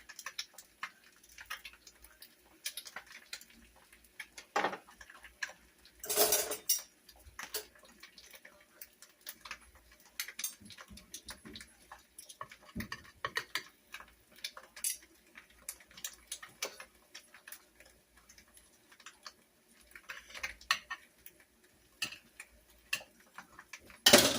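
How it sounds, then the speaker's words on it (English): Knife slicing through an avocado for homemade tostadas, heard as sparse, soft ticking cuts and light taps of blade on board, with occasional clinks of kitchen utensils, quiet and close with no talking. "you guys cannot see that I'm cutting my avocado"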